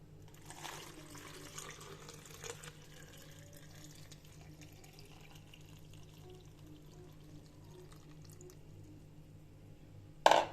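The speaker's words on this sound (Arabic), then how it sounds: "اصب الميه" Water is poured steadily into a jar for making cucumber pickles, a soft continuous trickle lasting several seconds at close range, ending with a brief louder splash.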